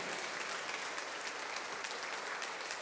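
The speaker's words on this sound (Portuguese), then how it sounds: "Os aplausos." A church congregation gives a steady, even round of applause, a continuous patter of many hands clapping together at moderate loudness with no speech over it.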